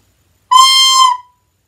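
A recorder sounds its highest note: one bright, piercing sustained tone lasting under a second, steady and fairly loud, then breaking off cleanly into silence.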